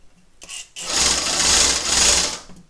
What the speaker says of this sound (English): A speed control knob, so I can fine-tune the rate of rotation of the motor